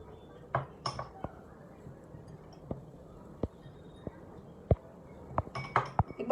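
Peanuts, dates and cocoa powder are stirred in a bowl, with scattered clinks and taps of a utensil against the dish, sharp and close over quiet background.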